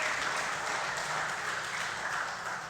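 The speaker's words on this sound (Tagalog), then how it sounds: "Palakpak ulit sa Panginoon." Congregation applauding during a church worship service, a steady wash of clapping that stays fairly even throughout with no talk over it.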